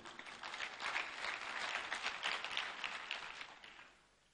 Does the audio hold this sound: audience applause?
yes